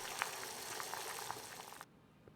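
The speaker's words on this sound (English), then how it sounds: "Boiled the sausage." Sausages boiling in a pot of water, a bubbling, gurgling simmer with small pops throughout that cuts off abruptly, leaving near silence.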